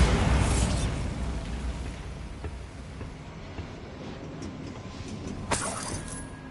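A Bombarda blasting spell goes off in Hogwarts Legacy, a loud burst that decays into a long low rumble, with a few later crackling hits and a brief sharp pop near the end.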